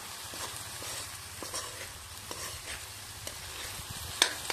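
Corned beef heating in cooking oil in a home kitchen pan, a steady soft sizzle with light stirring scrapes and a brief sharper clink near the end, no talk.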